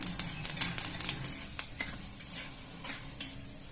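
Chana dal fries in hot oil in a kadai, giving a soft, steady sizzle with scattered light ticks and crackles up close, without speech.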